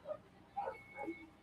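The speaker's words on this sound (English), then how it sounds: "I hear them barking" Dogs bark indoors at home in a few short, faint yips and barks spaced across a brief moment, sounding somewhat distant.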